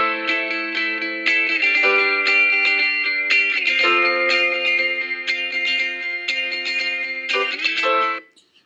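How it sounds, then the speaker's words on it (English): An electric guitar run through heavy effects strums a chord progression in a rhythmic pattern, bright and chorused with some distortion and reverb, loud and alone, with the chords changing every second or so before the sound cuts off. "We then added a guitar part"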